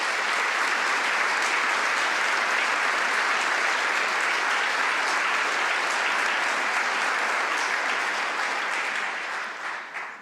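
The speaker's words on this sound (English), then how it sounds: "Let's give them all a round of applause" An evening talk audience at Crystal Bridges gives the sponsors a round of applause, dense and sustained for about ten seconds before tapering off at the close.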